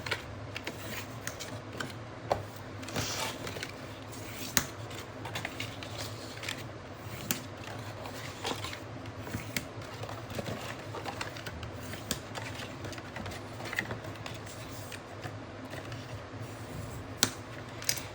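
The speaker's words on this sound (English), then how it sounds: "Then just quickly fold and burnish all the score lines really well." Paper cube favor box being folded and its score lines burnished by hand: continuous soft crinkling, rubbing and small tapping clicks, close and fairly quiet, with no talk.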